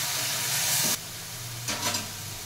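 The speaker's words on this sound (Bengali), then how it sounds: "কাঁচা লঙ্কা দিয়ে দিলাম, একটু ভেজে নেব।" Green chillies and lightly fried onion with ginger sizzle in hot oil for a Bengali eggplant dish, a steady close hiss that surges louder twice.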